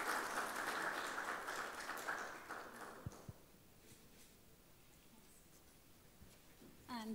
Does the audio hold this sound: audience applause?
yes